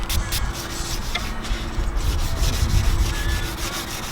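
Steady rubbing and scrubbing of Turtle Wax headlight lens restorer over a yellowed car headlight lens, a continuous close, moderately loud abrasive swish with soft rhythmic strokes.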